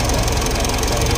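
Diesel engine of a Mitsubishi Montero Sport with a 4D56 engine running steadily after a timing belt replacement, a close, loud, even idle clatter with a rapid knocking rhythm and no talk.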